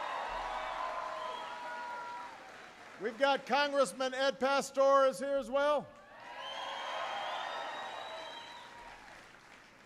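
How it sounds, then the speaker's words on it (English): A crowd at a presidential speech on homeownership applauds and shouts, the broad wash of clapping audible at the start and end while someone speaks loudly over the middle. "Give him a big round of applause."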